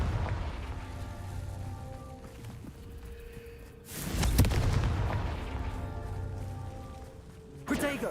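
Confringo fire spells in the Hogwarts Legacy video game blasting with sharp booming bursts, one big explosion midway and another near the end, over a rumbling game background.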